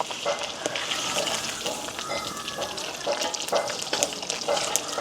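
Meat sizzling in hot oil is flipped over in a village kitchen, with a steady frying hiss and small scraping clicks from the flipping.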